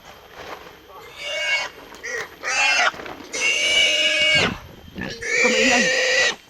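Loud, high-pitched pig squeals in several long bursts, with short gaps and some background noise between them.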